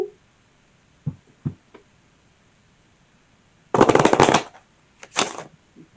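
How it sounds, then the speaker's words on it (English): A deck of oracle cards being shuffled, a few soft isolated taps and then two short, dense bursts of riffling cards close to the listener, with no voices. "I'm going to shuffle."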